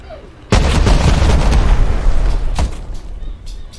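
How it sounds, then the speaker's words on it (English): A rocket launcher fires in a video game, giving a sudden loud boom followed by a rumbling roar and then a second burst a couple of seconds later. "Don't give her the rocket launcher."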